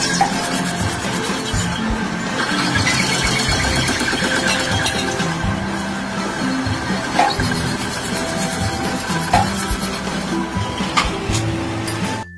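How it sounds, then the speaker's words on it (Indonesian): A lathe in a workshop machines a car spare part, giving a continuous mechanical whir with tonal humming and occasional sharp clicks and scrapes, steady and close with no talk. "Setelah diproses, benda kerja ditempatkan pada mesin bubut di sisi lain dan diperbaiki."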